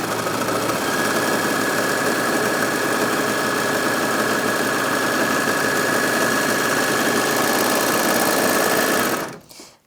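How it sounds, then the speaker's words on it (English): A Brother 4234D overlocker runs at full speed through fabric, giving a loud, steady, close-up mechanical whir that holds for about nine seconds before cutting off abruptly. "And that was up to full speed there, so it's nice and fast"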